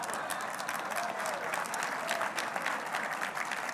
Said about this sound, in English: Not often that I get the chance to have Barack Obama being applauded by a heritage audience